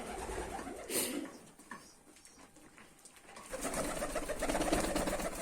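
Pigeons of the royal and white Chinese gull breeds coo in a loft, soft low throaty calls rising and falling, with a brief bright flutter or rustle early on and a fuller murmur of cooing toward the end.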